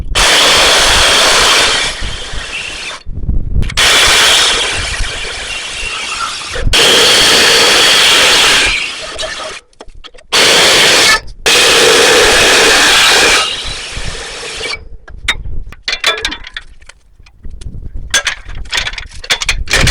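A power tool cuts through the metal supports of an old tree blind. Loud, harsh cutting bursts stop and restart several times, followed by scattered clanks and rattling near the end.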